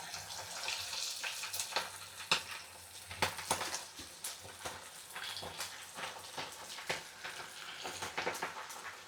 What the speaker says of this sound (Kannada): ಇದು ಮ್ಯಾರಿನೇಟ್ ಮಾಡಿರೋದನ್ನ ಈಗ ಎಣ್ಣೆಲಿ ಕರಿಬೇಕು